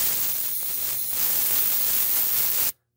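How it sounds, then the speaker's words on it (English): Brake cleaner sprayed from an aerosol can onto old brake and belt dust on a 2012 Ford Fiesta during a timing belt job, a steady loud close hiss lasting under three seconds that cuts off abruptly. "I'm going to spray some of this old brake dust off of here with some brake cleaner"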